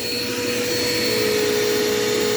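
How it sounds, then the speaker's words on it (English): A Dirt Devil Quick Power vacuum cleaner runs continuously with a steady, loud motor whine and airflow hiss, close by and alone. "overall, this vacuum is a great little vacuum"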